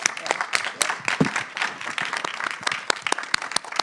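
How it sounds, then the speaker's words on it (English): Audience applause at a community event, sparse, uneven claps from a modest crowd, fairly close and moderately loud, with a murmur of voices. "Now, I think that deserves a round of applause."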